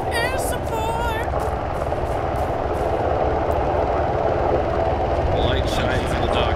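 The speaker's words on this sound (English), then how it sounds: "You guys hear that? Oh, there's a helicopter." In the Arma 3 video game, a helicopter drones steadily overhead with a heavy rotor and engine rumble, loud and continuous beneath players talking.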